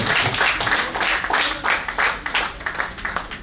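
An audience at an Indian award ceremony claps steadily as a guest is welcomed to the stage, the applause fairly close and continuous with a gentle rise and fall in intensity.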